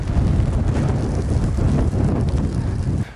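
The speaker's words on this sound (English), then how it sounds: "Now, it's windy and snowing yet again." Strong wind with falling snow at Bryce Canyon buffets the microphone in a constant low roar, loud and close, with no voices.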